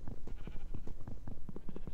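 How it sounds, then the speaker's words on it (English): Sheep bleating in the video game Minecraft, a quick cluster of repeated nasal bleats close by, overlapping in a busy, fairly loud run with no speech. "No, I hear sheep."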